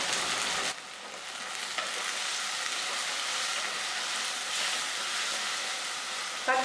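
Ripe chopped tomatoes hit hot oil with ginger garlic paste for a Hogenakkal-style fish curry, giving a loud, steady sizzle and frying hiss close up, with light stirring sounds.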